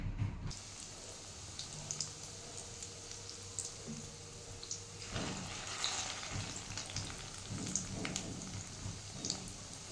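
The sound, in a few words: frying fish roe fritters in hot oil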